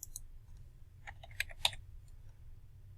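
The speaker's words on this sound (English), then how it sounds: "we're just typing in the information that they give us" Typing on a computer keyboard to enter statistics data, with a few quiet scattered key clicks and a small burst of taps in the middle over a low background hum.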